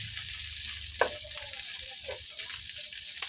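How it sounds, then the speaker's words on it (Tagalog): Onion and garlic sautéing in pork fat rendered from meat for pakbet adobo, a soft continuous sizzle with a few light utensil taps and scrapes. "pwede na tayo maggisa ng ating sibuyas at bawang"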